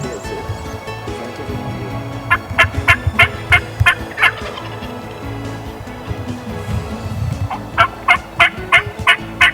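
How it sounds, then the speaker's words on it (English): Wild turkeys, jakes and a boss gobbler in a field, gobbling in repeated bursts of rapid rattling calls, loud and fairly near, with a pause between two series. "The jakes were really responding to Eddie's calls until the boss gobbler came into the field."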